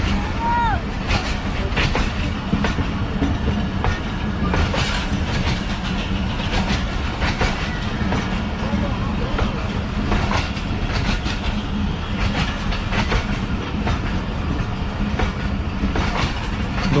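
Passenger coaches of a train rolling past at Taxila Railway Station, a continuous loud rumble with rhythmic wheel clatter over the rails throughout, faint squeals and indistinct voices mixed in.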